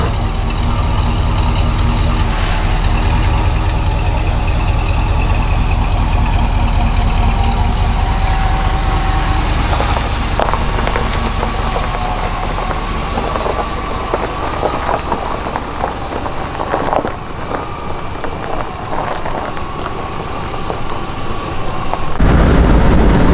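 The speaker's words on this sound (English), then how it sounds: "We're cruising. This thing drives just like a lifted truck." A 1990s SUV's engine runs steadily while driving, a loud continuous rumble with road and wind noise, shifting in tone midway and swelling again near the end, with no talking.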